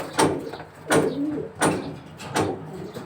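A racing homing pigeon gives four evenly spaced, close-up bursts of cooing, each about two-thirds of a second apart, with no talking over them.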